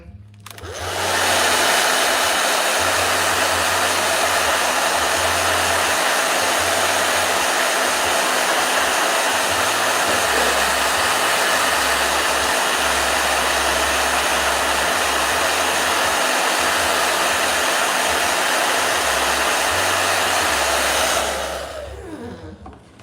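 A blow dryer runs steadily at close range, a loud continuous whooshing roar that holds for about twenty seconds before cutting off.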